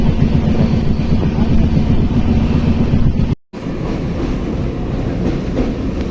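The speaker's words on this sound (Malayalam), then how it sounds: "ഇപ്പോൾ എയർപോർട്ടിൻ്റെ അതിൽ കൂടെയാണ് ട്രെയിൻ പോയിക്കൊണ്ടിരിക്കുന്നത്" A train rolls steadily along the rails past an airport, a continuous low rumble with faint rhythmic clatter and wind noise, briefly cutting out near the middle.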